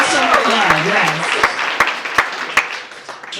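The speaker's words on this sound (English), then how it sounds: "Give her a round of applause." Audience applauding at a trans stories event at Hunter College: a steady wash of clapping with a few sharper, louder claps standing out, and a voice talking over it at the start.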